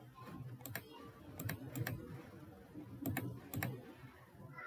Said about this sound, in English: So simply type this character code and click on insert.